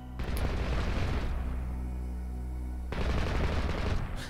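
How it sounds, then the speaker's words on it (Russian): Units in the strategy video game Second Earth fire in every direction, a dense, loud barrage of rapid gunshots and booms that briefly drops away before resuming at full intensity. "То есть стрельба просто во все стороны"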